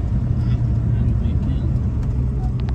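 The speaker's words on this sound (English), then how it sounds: "we're driving a beautiful 70 Roadrunner" A 1970 Plymouth Road Runner cruises on an autumn road in Iowa, a steady low engine rumble heard from inside with faint talk over it.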